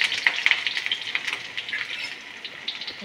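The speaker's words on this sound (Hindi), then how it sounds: "पेस्ट अच्छे से भून ले रही हूँ।" Ginger garlic paste fries in hot oil with cumin, asafoetida and whole spices, giving a steady close sizzle with crackling pops and brief stirring scrapes throughout.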